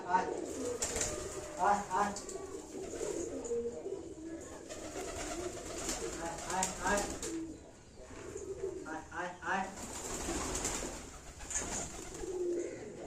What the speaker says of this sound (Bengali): দেখতে পাচ্ছ পায়রাকে সব খাওয়া দাওয়া স্টার্ট করেছি